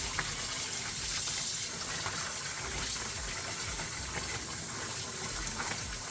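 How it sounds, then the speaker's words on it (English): Tap water runs continuously into a sink as soap is rinsed out of a felted scarf, a steady close gush with faint sloshing and no voices. "We'll just kind of wash the soap out of it."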